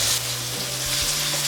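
Chopped onion frying in hot oil with bay leaf and whole spices for a homemade chili beans recipe, giving a steady, loud, close sizzle with a few low thumps of stirring.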